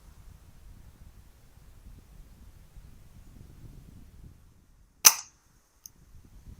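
A single sharp shot from an FX Impact M3 air rifle, fired outdoors at a squirrel feeder, cracks out loud and close after a quiet stretch of faint low rustle, followed by a tiny click about a second later.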